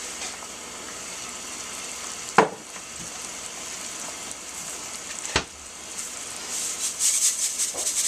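A pot of water at a rolling boil for pasta gives a steady hissing, bubbling wash, with a couple of sharp clinks and a brighter crackling spatter toward the end, fairly close and moderate in level.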